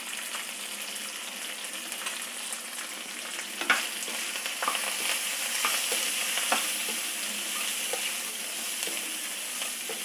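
Sliced okra sautés in a pan with salt and turmeric, giving a steady, close frying sizzle with soft stirring scrapes and a few sharper pops and clicks scattered through. No one talks.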